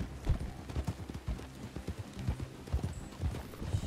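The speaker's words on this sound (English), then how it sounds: "Oh, the click-clack of the wood." Horse hooves clip-clopping at a steady walking rhythm across a wooden surface in the game Red Dead Online, close and clear with no talk.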